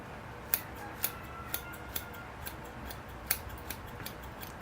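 Scissors snip moss short at the back of a bonsai show tree, a run of about a dozen crisp, quiet clicks at an uneven pace, close and isolated with no talking.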